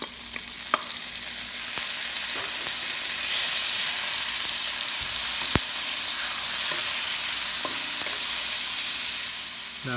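Garlic frying in a pan for milkfish steak, a steady loud hiss of oil throughout with occasional sharp clicks and taps of stirring, nobody speaking.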